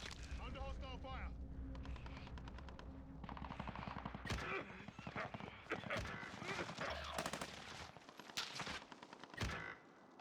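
Rapid machine-gun bursts and single gunshots crack in a Call of Duty: Modern Warfare match, layered with loud battle noise and voices calling out through the firefight.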